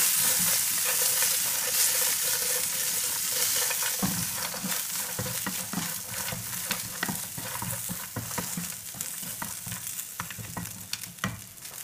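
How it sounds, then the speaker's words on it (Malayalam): Previously fried beef with soy sauce is stir-fried in a hot pan, a loud continuous sizzle running throughout with frequent scraping and tossing strokes from a utensil, close and without talk. "ഇനി ഇതിലോട്ട് നമ്മൾ നേരത്തെ ഫ്രൈ ചെയ്ത് വെച്ചിട്ടുള്ള ബീഫ് ചേർക്കാം ഇനി ഒരു ടീസ്പൂൺ സോയ സോസ് കൂടെ ചേർക്കണം നമുക്കിതിനെ നന്നായി ഒന്ന് മിക്സ് ചെയ്യാം"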